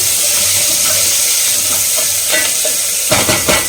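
Curry leaves and onion sauté in a pan with a loud, steady sizzle, and a cluster of bright stirring scrapes comes near the end.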